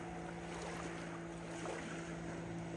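Simon Fletcher runabout motorboat on Lake Champlain, a steady engine hum with a low drone running continuously under wind and water noise, heard at moderate distance.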